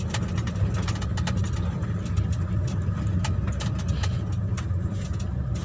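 A car's engine runs steadily in third gear at about 25 km/h with no throttle applied, giving a continuous low rumble and hum with faint clicks, close and alone.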